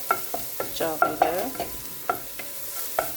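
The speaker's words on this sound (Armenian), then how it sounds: "Տապակում ենք։" Onion, garlic and beet fry in a pan while a utensil stirs them in repeated scraping strokes. The strokes land roughly every half second over a steady sizzle, close and clear, and one brief word is spoken.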